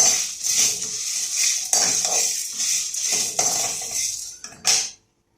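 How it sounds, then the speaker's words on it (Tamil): Peanuts are stirred and roasted in a metal pan, with a spoon scraping and clinking in repeated rhythmic strokes close by, each pass bringing a bright rattling scrape before the sound cuts off abruptly. "இதை நல்லா செவக்க வறுத்துக்கிடுவோம் வாசம் வரணும் செவக்க வறுத்துக்கலாம்"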